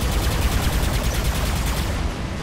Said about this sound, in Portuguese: os caras soltam direto esse tiro paralisante.